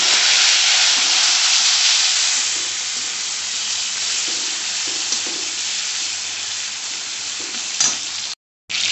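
Spices and tomatoes fry in a hot pan, giving a steady, loud hissing sizzle that eases slightly after the first couple of seconds, with occasional stirring scrapes, before cutting out briefly near the end.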